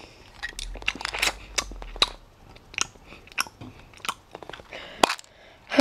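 Altoids Smalls wintergreen mints crunch and crackle between the teeth, a close run of brittle bites and chewing clicks over several seconds, ending with a sharp snap and rustle.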